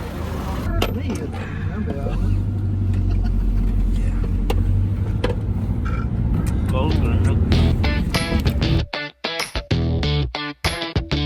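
Steady low engine rumble and road noise fill the inside of a moving minivan in Ilocos Sur, with voices talking over it and the drone thinning out near the end.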